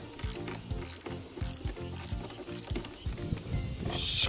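Ratchet wrench clicking in quick repeated bursts as it loosens a ground bolt during car fuel-filter maintenance, close and crisp with short pauses between strokes.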